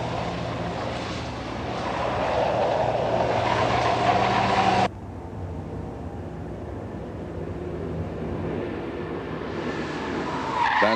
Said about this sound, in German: Bei einer Vollbremsung aus 100 Kilometern Geschwindigkeit steht das Fahrzeug nach 50 Metern und 40 Zentimetern.